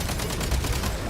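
Rapid automatic gunfire from a weapon in Genshin Impact, a dense continuous rattle of shots close up with no pauses.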